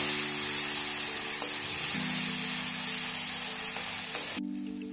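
Masala paste with cashews frying in a pan for a paneer gravy while being stirred, a steady close hiss of sizzling oil under a humming tone that cuts off near the end.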